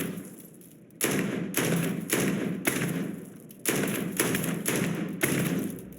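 Legendary gun with the Skip Shots perk firing in Starfield, a video game: a loud, steady run of about eight heavy, punchy shots at near-even intervals, each a broad thump with a short tail, and no talk.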